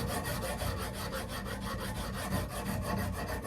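Steady rasping strokes of a round file worked along a knife blade during a handmade knife build, continuous and close, with a regular back-and-forth rhythm and no talking.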